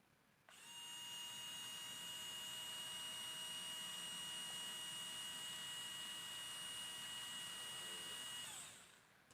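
A cordless 4-function screwdriver runs steadily at full speed for an RPM test, giving a high motor whine with strong tonal harmonics. It starts abruptly, holds even for about nine seconds, then winds down, with no voices.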